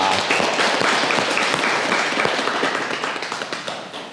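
An audience at a Buddhist overnight prayer retreat closing ceremony claps steadily and loudly in dense, sustained applause that tapers slightly toward the end.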